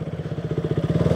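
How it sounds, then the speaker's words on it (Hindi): A motorcycle rides off-road over wet, muddy ground, its engine chugging in a steady rapid pulse with a rough, clattering mid-range tone, close and fairly loud, no voices over it. "बाइक से ऑफ रोडिंग कर रहे हैं भाई"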